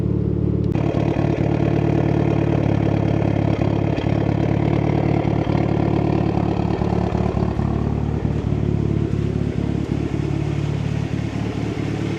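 An abandoned Mitsubishi Evo 8 idles steadily and loudly up close, its engine rumbling with light clatter throughout and no talking over it.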